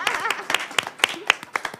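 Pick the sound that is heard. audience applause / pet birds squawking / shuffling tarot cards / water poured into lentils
audience applause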